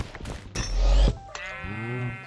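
A sheep in the Minecraft video game bleats twice close up, a short wavering synthetic cry followed by a longer one, with no talking over it.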